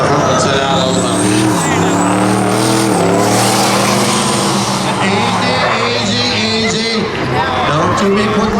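Four-door pickup work trucks drag racing at a Beech Ridge Day of Destruction event, with loud, revving engines rising and falling in pitch through gear changes, and voices talking over the roar.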